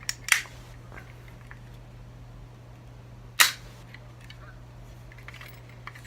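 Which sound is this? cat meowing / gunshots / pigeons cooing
gunshots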